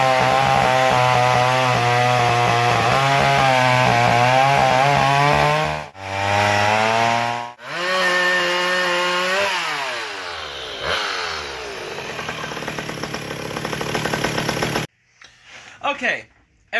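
A McCulloch 600 series chainsaw runs up close and loud, its engine revving and dropping in pitch repeatedly, then cutting out abruptly near the end.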